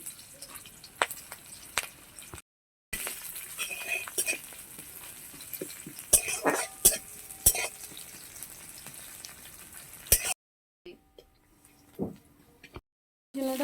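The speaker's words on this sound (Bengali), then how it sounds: "তেলটা গরম হয়ে গেছে এর মধ্যে কালো জিরে ফোড়ন দিয়ে দিলাম পরিমাণ মতন কাঁচা লঙ্কা দুটো চিরা দিয়ে দিলাম পেঁয়াজ কুচুনো একটু দিয়ে দিলাম" Nigella seeds, slit green chilies and chopped onion fry in hot oil with a soft, uneven sizzle, broken by clinks and scraping of a utensil against the pan and short silent gaps.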